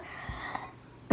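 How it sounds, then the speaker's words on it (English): A person coughs once at close range, a short harsh burst following a faint throat sound. "Oh my goodness, coughing crazy."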